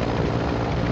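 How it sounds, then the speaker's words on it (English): A helicopter departs in the video game Warzone, a steady broadband rotor and engine roar filling the whole short moment with no talk. "the helicopter leaving"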